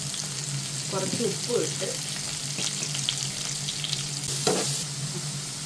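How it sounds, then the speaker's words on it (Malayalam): Chopped shallots and onion with curry leaves sizzling steadily in a hot pan for a chicken roast, a constant frying hiss with brief stirring clatters while a voice speaks briefly. "കൊച്ചുള്ളിയും സവാളയും കൂടെ അരിഞ്ഞതാണ്, അത് ഇട്ട് കൊടുക്കുകയാണ്."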